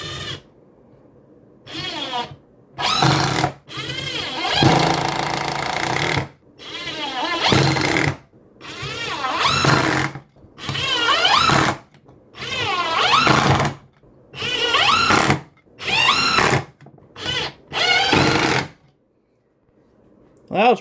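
Cordless impact driver sinking 1 5/8-inch screws into a 2x4, a series of about ten loud, close rattling bursts each a second or two long with brief gaps between them.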